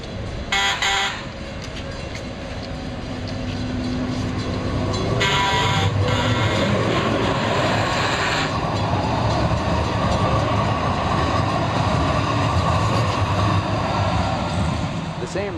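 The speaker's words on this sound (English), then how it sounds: "Trolley crossing." A trolley rolls through a trolley crossing with a loud, steady rumble of wheels on rails, and short bright bell or buzzer bursts sound near the start.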